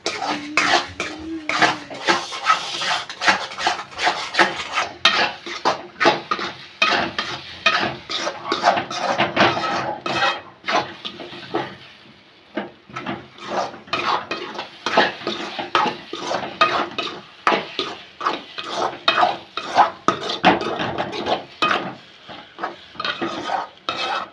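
Egg fry stirred in a pan with a spatula: rapid, irregular scraping and clinking strokes against metal, loud and close, with a brief pause midway before the busy stirring resumes.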